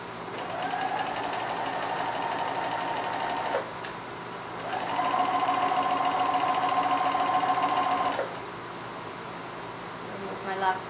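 A sewing machine stitches a dart in two steady whirring runs separated by a brief pause, close and moderately loud, with a short burst of stitching at the end.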